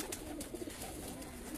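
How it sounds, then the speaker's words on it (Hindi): A high-flying racing pigeon on a rooftop in Punjab gives soft, low cooing that is quiet and partly masked by steady background noise. "ये एक मेरा सबसे बहादुर कबूतर है"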